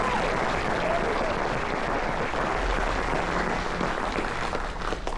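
An audience at a military appreciation event aboard a cruise ship claps steadily for medal recipients, a dense, sustained burst of applause that holds strong for several seconds before easing slightly at the end.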